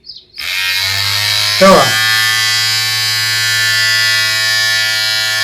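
An old electric shaver converted into a massager switches on and runs with a loud, steady close-up motor buzz, a brief rattle near the start, while a voice speaks briefly over it.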